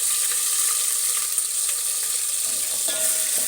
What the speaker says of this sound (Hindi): अब मैं इसमें डालूँगी 1 चम्मच लहसुन अदरक का पेस्ट।